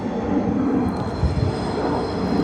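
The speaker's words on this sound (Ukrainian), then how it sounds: "над нами літак летить" A propeller airplane passes overhead during a Ukrainian car-buying outdoor shoot, a steady broad engine drone that holds throughout without any talking.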